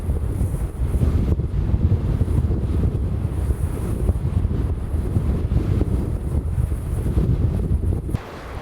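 Strong snowstorm wind in Svalbard roars continuously against the microphone, a dense, buffeting rush that holds steady for several seconds before easing briefly near the end.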